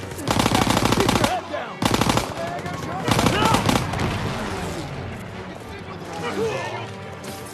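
Rapid machine-gun bursts and gunfire crackle in Call of Duty: WWII battle, loud and repeated in several sustained volleys with pauses, under shouted voices and combat noise.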